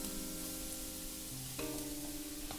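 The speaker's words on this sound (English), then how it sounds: "Add the oil in the hot pan and start with frying the garlic" Garlic fries in oil in a hot pan with a soft, steady sizzle, faint and continuous, while a sustained hum of tones runs underneath.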